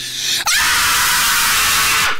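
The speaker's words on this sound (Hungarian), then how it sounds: "Jó, üvöltök egyet." A person lets out one long, very loud yell that starts abruptly and holds steadily for nearly two seconds, close and piercing, during a lively Hungarian radio studio segment.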